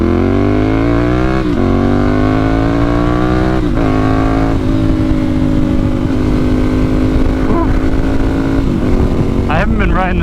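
A motorcycle accelerates hard on the road, its engine note climbing steeply through several gear changes with brief dips between, loud and close throughout with wind rush.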